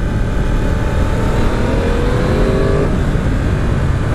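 Loud, continuous roar of a Ducati motorcycle accelerating on a ride, with heavy wind buffeting and an engine tone that rises briefly midway.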